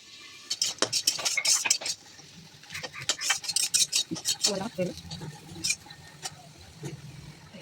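Many dishes and utensils being washed, metal pots and cutlery clinking and clattering in quick close bursts with short pauses.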